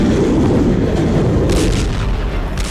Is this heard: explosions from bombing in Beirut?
yes